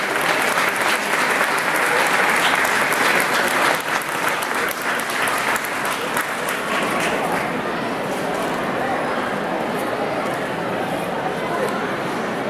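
An audience at a bean-dish festival event in Colunga gives loud, sustained applause, with many hands clapping densely and crowd voices underneath. The applause stays strong, then gradually softens into a lower crowd murmur over about twelve seconds.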